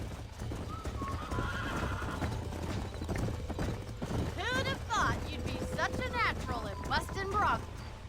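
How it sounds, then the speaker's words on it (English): Horses in the Red Dead Redemption video game neigh and whinny several times over a steady clip-clop of hooves, with game voices talking throughout the scene. "These are fine horses."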